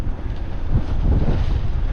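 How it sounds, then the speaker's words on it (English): Strong wind of over 20 knots roars across the microphone aboard a sailboat at sea near Yarmouth, a steady heavy rumble with water rushing beneath and no voices. "It's windy, it's over 20 knots"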